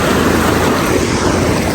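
The Megdi river rushes beneath Jalange bridge, a loud, steady, broadband roar of moving water with no break or voices.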